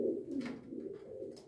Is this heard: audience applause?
no